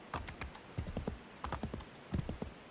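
Horse hooves clip-clop in a steady galloping rhythm while riding in the video game Assassin's Creed 3, close and continuous throughout.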